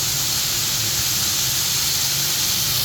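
Chicken pieces fry in a pan with a constant, even hiss of hot oil. The bright, dense sizzle stays steady and close throughout, with no voices.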